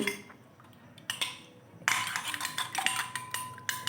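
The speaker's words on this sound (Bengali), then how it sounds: "একটা ডিম ফাটিয়ে নিয়েছি ফাটিয়ে ওটাকে আমি নুন দিয়ে বেশ ভালো করে ফেটিয়ে নিচ্ছি" An egg being beaten with salt in a bowl for a shrimp noodle snack batter, heard as quick repeated clinks and scrapes of a utensil against the bowl, growing busier and louder partway through.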